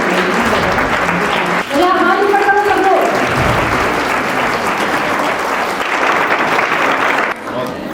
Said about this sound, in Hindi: तालियां धीरे हो गई हैं